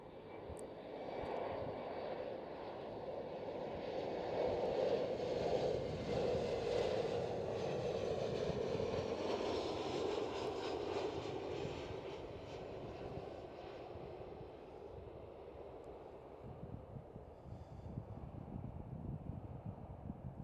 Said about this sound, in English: Next one up is a KLM Cityhopper